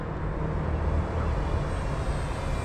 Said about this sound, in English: Nice easy flyby.